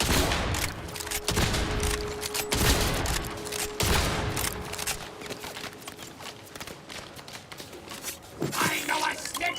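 Rapid shotgun blasts from an incredibly strong Doomslayer shotgun in the video game Borderlands 4, loud and dense, repeating through a hectic firefight with other game sounds.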